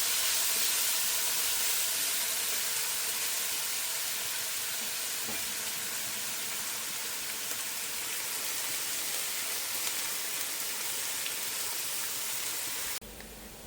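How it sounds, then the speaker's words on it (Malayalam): Onions, green chili, curry leaves, ginger and garlic fry inside a pressure cooker, giving a faint, steady sizzle and hiss that runs unbroken for over ten seconds and then drops suddenly near the end. "ഇത് ഇതിൻ്റെ അകത്ത് കിടന്ന് നന്നായിട്ട് മൂത്ത് വരണം."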